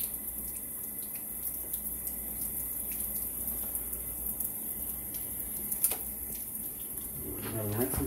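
A kitchen tap runs steadily as a butchered quail is rinsed under the water, a faint even hiss with light splashes and a brief voice near the end.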